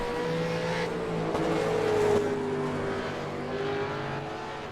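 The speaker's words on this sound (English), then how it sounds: "Car sounds be brr, brr." Several V8 race car engines in the iRacing video game at Watkins Glen drone and whine together at steady high revs, loud and continuous, with pitch rising and falling slightly as they run.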